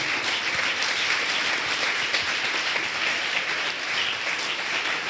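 A church congregation claps for the Lord in sustained, dense applause that fills the room steadily from start to finish, loud and close with no break.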